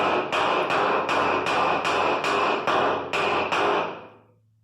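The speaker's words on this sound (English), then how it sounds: "I just use a hammer" Steady, rhythmic hammer blows tapping a bearing seal into place in a brake assembly, about eight close metallic knocks in a row before fading out.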